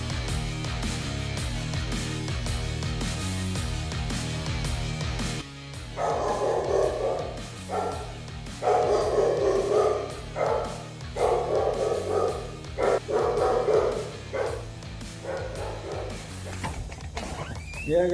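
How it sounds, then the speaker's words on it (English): A guard dog barks at an armed intruder in repeated loud, close barks and yips, sounding over background sound throughout. "The dog didn't hesitate for a second to protect his family from the armed intruder."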